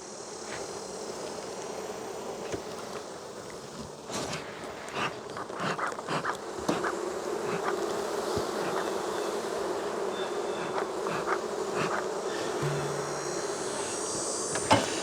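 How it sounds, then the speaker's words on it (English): Honeybees buzzing steadily around open hive frames during an early-September inspection, a dense continuous drone close by with scattered louder passes, no talking. "See a bee over here that her pollen baskets are completely full."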